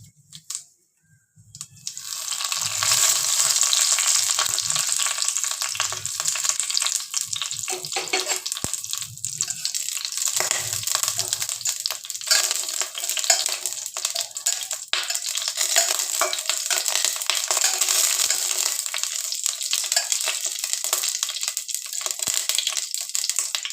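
Whole cumin and garam masala hit hot mustard oil in a pan, bursting into a loud, steady sizzle after a brief quiet start and crackling on without a break for about twenty seconds.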